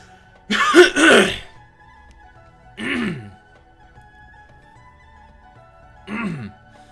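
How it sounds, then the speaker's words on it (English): Someone clears their throat several times up close: a double rasping burst, then two more single throat-clearings spaced a few seconds apart. "I need to clear my throat"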